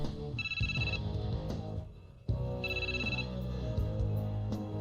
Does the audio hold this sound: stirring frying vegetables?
no